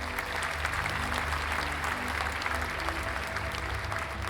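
Applause sound effect: a dense, steady wash of many hands clapping at an even level from start to finish, with no voices over it.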